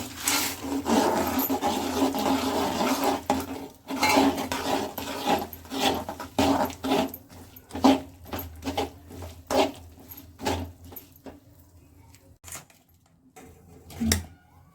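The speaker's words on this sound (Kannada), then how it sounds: "ಈಗ ಇದು ಶೇಂಗಾ ಹಾಕ್ಕೊಂಡು ಮಿಕ್ಸ್ ಮಾಡ್ಕೋಬೇಕು" Peanuts stirred into hot jaggery syrup in a pan for groundnut chikki, a gritty scraping and rasping that comes in uneven bursts, loud at first and then choppier.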